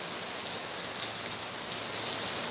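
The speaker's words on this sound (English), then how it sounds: "There's not any thunder out here today, but this is a pretty good rain." Steady medium rain falling outdoors during a southern storm with no thunder, a dense, even hiss of drops hitting surfaces that stays constant and fairly close throughout, with no voices.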